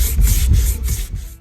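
Wood being sanded for cabinet doors, a close, loud scratchy rubbing that pulses in about five quick back-and-forth strokes with no pauses between them.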